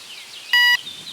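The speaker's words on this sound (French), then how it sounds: "au niveau de la tonalité du petit bip, ça c'est réglable" An electronic fishing bite alarm gives a single short, bright beep at a steady pitch, loud and close, lasting about a quarter second against faint background noise.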